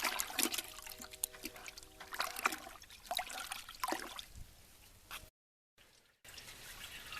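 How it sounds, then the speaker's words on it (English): Thick goop draining from a brush into a bucket, a close, continuous trickle and dribble of liquid with small splashes, steady for several seconds before a brief break and a quieter resumption. "I like to put it in a bucket and just get all the majority of the goop out."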